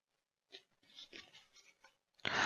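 Tarot cards shuffled and handled close by, a few soft papery rustles and taps in quick bursts, ending in a louder brushing sweep.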